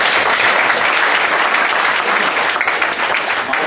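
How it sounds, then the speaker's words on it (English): Steady, dense applause from an audience at a radio station reunion gathering, loud and sustained throughout with no break. "Bob Watson, who deserves a round of applause."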